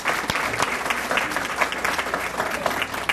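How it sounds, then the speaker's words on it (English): An audience applauds at the Morganton Citizens of the Year 2016 civic awards ceremony, with loud, dense clapping from many people that is sustained and fairly even throughout. "Please give them a round of applause for all the work that they do in our community."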